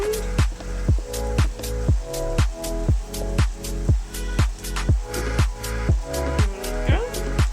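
Hidden-veg spaghetti bolognese sauce being mixed, a regular rhythm of wet squelching, slapping strokes, about two per second, close and fairly loud.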